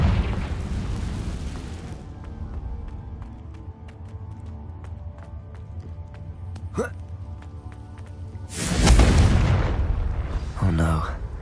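A Confringo spell explosion in Hogwarts Legacy, a loud booming burst with a rushing blast that rises near the end after a stretch of game ambience and scattered clicks and chimes.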